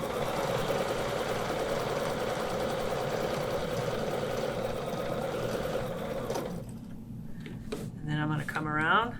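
A sewing machine stitching a quilt with a Westalee ruler, running in a steady fast whirring drone for several seconds, then stopping as a voice speaks nearby.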